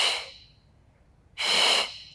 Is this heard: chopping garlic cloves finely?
no